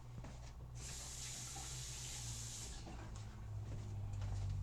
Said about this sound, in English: I'm gonna rinse this one off so I can put it in the next one and that keeps it clean